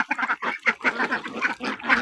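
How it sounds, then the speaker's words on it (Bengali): A cluster of ducks quacks rapidly and continuously at close range while being fed paddy, their calls overlapping in a busy, excited chorus. "এখন আমি ধান খাবার দিব হাঁসে।"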